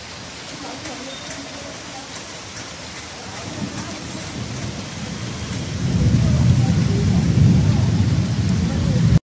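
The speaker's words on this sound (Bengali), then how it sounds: "ঝড় শুরু হয়ে গেছিল ঝড় বৃষ্টি" A thunderstorm with heavy rain pours steadily, with low thunder rumbling throughout. The downpour builds to a louder, denser roar in the second half, with no talk over it.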